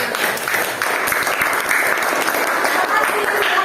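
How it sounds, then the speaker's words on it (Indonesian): Classroom applause as pupils clap for a presenting student group, a dense, steady patter of many hands filling the room for a few seconds without a break. "Kasih tepuk tangan dulu sama kelompok yang lain."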